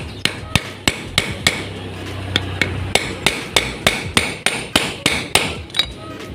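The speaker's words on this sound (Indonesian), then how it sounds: "bisa dipakai untuk penggetokan pengepresan seal water pump-nya sini" A hammer presses a new water pump seal into a Honda Vario motorcycle engine, striking a steel driver in a steady run of about sixteen sharp, close, ringing blows over six seconds, with no talk.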